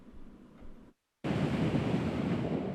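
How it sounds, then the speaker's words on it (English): Wind and waves on Lake Ontario in March, a dense, steady roar of surf and gusting wind buffeting the microphone, cut by a brief silent gap before returning loud and full. "Wind, waves, and ice. Along Lake Ontario in March, it's expected."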